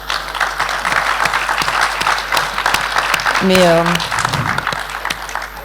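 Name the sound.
audience applause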